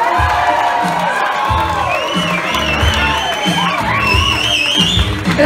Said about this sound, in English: Let's keep your applause going